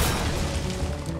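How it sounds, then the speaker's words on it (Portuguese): A short, dense magical blast in the card game Hearthstone, the Arcane Explosion spell effect, bursting loudly at once and trailing off over about a second with no talk. "Ah, explosão arcana apenas"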